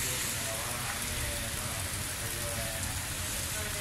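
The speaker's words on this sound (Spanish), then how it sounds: "Llueve mucho." Heavy rain pours down during a September 2019 DANA storm in Alicante, a dense, unbroken hiss of water that holds a steady loud level throughout.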